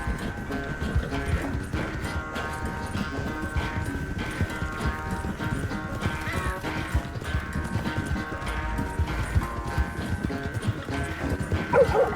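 Horse galloping in Red Dead Redemption 2, a steady clip-clop of hooves running continuously through a dense in-game mix of music and ambience.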